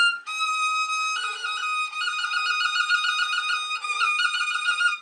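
A bowed violin string holds a tone while light, rapid finger alternations that never reach the fingerboard flutter in and out, giving a soft, uneven trill, close and alone.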